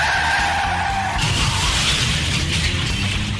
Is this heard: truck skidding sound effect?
yes